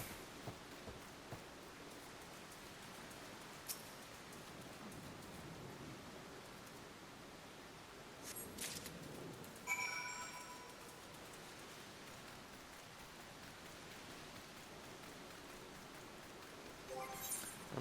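Steady rain falls in Final Fantasy XIV, a soft, even wash of noise with a few faint clicks and swells, heard alone without talk.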